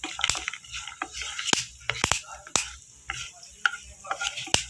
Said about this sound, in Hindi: ड्राई फ्रूट बहुत जल्दी फ्राई हो जाता है और तेज़ आंच पे जल जाएगा